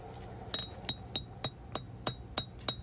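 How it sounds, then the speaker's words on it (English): A blacksmith's hammer strikes steel on an anvil about eight times in an even rhythm, forging the forward part of a knife handle behind the integral guard. Each blow rings sharply and fades, moderately loud and close. "what I'm hammering in now is actually going to be the forward part of the handle"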